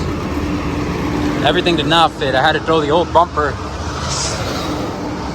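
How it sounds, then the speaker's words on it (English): Heavy truck traffic rolls past on a nearby road, a steady loud roar with rumbling low end that fills the whole stretch while someone talks over it. "Sorry for the noise, a lot of trucks"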